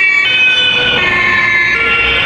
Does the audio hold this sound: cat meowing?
no